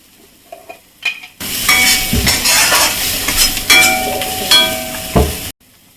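Kashmiri red chilli, turmeric and coriander powders are stirred into a hot pan for a brinjal curry. After a quiet start, a loud close sizzle rises, with a utensil scraping and clinking against the pan, then cuts off abruptly.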